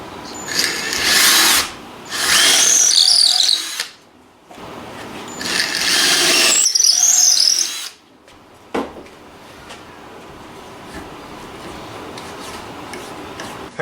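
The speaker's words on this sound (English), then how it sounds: "I'm going to drill out a 5/16 hole to that" A power drill boring a 5/16 inch hole in a block of wood, running in two loud, close bursts of whining and grinding with a pause between, then quieter handling noises and a sharp knock.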